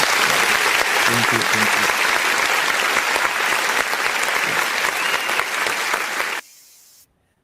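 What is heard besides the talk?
applause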